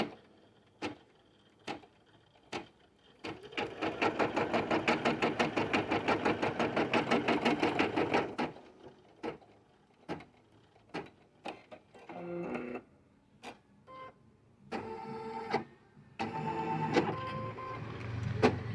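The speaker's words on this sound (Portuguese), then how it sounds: "E a máquina agora, ela vai prender para mim esse" Embroidery sewing machine stitching a cord onto a dish towel hanger, opening with spaced single clicks, then a rapid steady stitching run of about five seconds, followed by more isolated thumps and short mechanical bursts close by.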